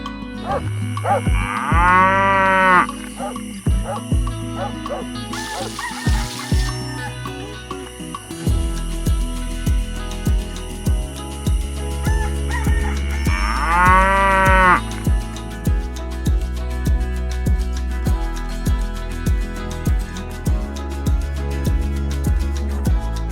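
Cows low on a farm, two long drawn-out moos some seconds apart, heard over a continuous bed of music.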